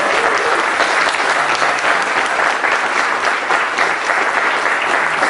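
Audience applause fills a 2017 sales rally: dense, steady clapping from a large crowd, sustained at an even level throughout with no voices rising above it.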